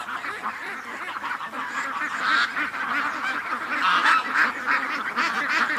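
Domestic ducks in a barnyard keep up a dense, continuous chorus of quacks and honks that builds steadily louder, close by with no talk over it.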